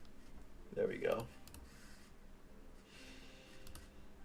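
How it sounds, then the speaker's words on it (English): Quiet clicking keystrokes on a computer keyboard are typed in short bursts at close range, with a brief murmur of a voice near the start. "You guys could probably hear that typing."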